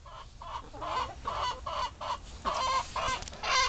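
Backyard hens cluck and squawk in short, repeated bursts, several birds close by and fairly loud, with a brief honk-like call among them and no talking.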